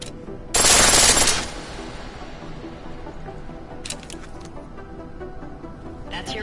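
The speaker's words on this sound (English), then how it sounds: "The pistol in full auto will take down targets fast" A pistol firing on full auto in a video game: a loud, rapid burst of shots lasts about a second, followed by two brief, quieter volleys over low background noise.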